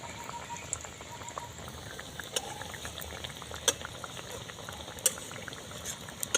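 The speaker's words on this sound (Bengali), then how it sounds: "একদম অল্প আঁচে ভেজে নিতে হবে" Semolina balls fry in oil over very low heat, bubbling and sizzling softly and steadily, with occasional sharper pops and crackles breaking through the gentle frying hiss.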